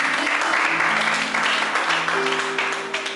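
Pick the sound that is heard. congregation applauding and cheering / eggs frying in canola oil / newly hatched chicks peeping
congregation applauding and cheering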